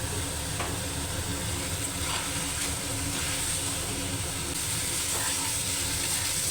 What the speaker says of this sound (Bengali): মশলার সাথে ভালোভাবে আলু আর বেগুনটা মিশিয়ে নিয়েছি